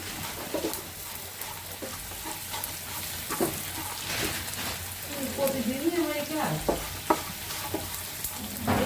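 Onions frying in a pan until browned, a steady close sizzle with intermittent stirring clicks, under faint background voices from a busy home kitchen.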